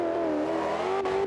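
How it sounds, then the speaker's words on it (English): A Dodge Viper's V10 engine roaring uphill through a mountain touge course, a steady low droning roar with rising pitch as the car accelerates, loud and close with no talk over it. "That V10 engine in that Viper as he brings it around the end of the course"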